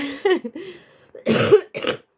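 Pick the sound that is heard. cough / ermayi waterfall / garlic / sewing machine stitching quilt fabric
cough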